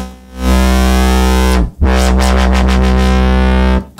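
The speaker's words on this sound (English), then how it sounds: "It's just a distortion module that adds a bit more grunt to the actual filter." A modular synth's filter fed into a distortion module: a loud, buzzy distorted tone drones steadily, briefly cutting out, then returning with a wavering, sweeping filtered edge.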